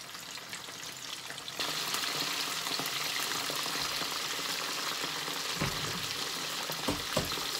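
Prawns dropped into a hot pan set off a sudden loud sizzle that holds as a steady, dense frying hiss, with a few clinks and stirring knocks near the end.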